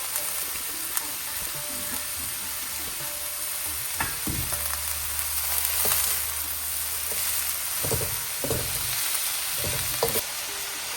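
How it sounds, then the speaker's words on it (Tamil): Cabbage stir-frying for Indo-Chinese chicken vegetable noodles, a steady close sizzle with repeated scraping stir strokes and clanks of the utensil against the pan, no talking. "இப்போ நம்ம கேபேஜும் ஆட் பண்ணிக்கலாம் அதில்"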